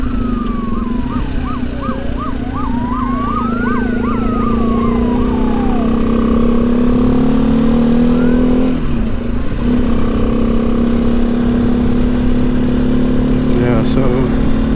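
A motorcycle hums steadily along a road, loud and close, with a siren wailing up and down in the background early on.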